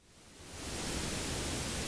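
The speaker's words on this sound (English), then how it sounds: "You'll hear the white noise" Steady broadband hiss from the Logic Pro X Test Oscillator rises in level over the first second, then holds as a constant, even noise with no other sounds.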